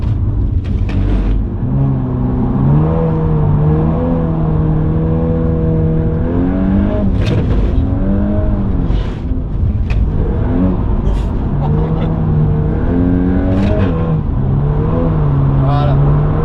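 A four-wheel-drive drift car's engine revs repeatedly, rising and falling in surges with brief pauses between, loud and near, with a voice talking faintly at moments.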